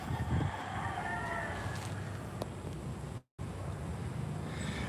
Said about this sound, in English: you can hear the roosters crowing